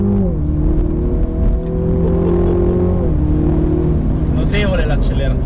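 A 2020 MINI JCW GP accelerates hard, the engine note climbing through rising harmonics, then dropping back at a gear change before building again. Someone talks over it in Italian, heard from inside the cabin.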